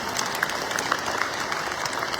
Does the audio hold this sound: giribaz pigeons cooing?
no